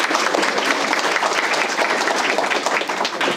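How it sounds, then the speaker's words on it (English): A crowd at a police area command community meeting claps for a lieutenant, a loud, dense, even wash of applause lasting the whole stretch. "You can clap for him."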